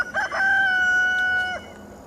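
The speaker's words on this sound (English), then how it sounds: "that's my favorite rooster right there" A Dominique heritage-breed rooster crows close by in a garden, one long sustained, steady crow of about a second and a half that ends abruptly, followed by quiet outdoor background.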